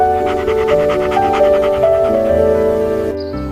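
A dog pants in quick, rhythmic breaths over a steady tonal musical backdrop that cuts off near the end.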